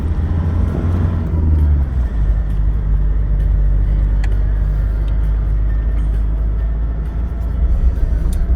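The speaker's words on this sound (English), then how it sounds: "This will get the old back of the Datsun rattling." Old Datsun driving along a rough sandy track in Western Australia, a loud steady low engine and road rumble with rattles and knocks from the body, heard from inside the cabin.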